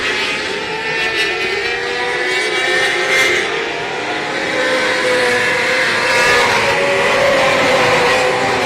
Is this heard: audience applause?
no